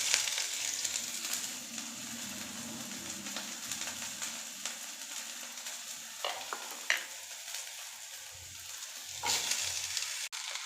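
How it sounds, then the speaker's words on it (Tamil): Steady crackling sizzle of onions frying in oil for sambar, with occasional stirring scrapes and a few sharper pops, close and continuous with no talking. "நறுக்கி வச்சுருக்கிற வெங்காயத்தை வந்து நான் வந்து போட்டுக்கிறேன்."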